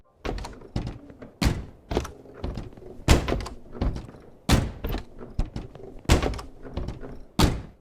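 Van back doors in Untitled Goose Game slam shut again and again, a rapid irregular series of loud, sharp thunks with brief gaps between them and no voices.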